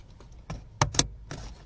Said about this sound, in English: Now I just have to try to get this thing plugged in and try to do it relatively easily.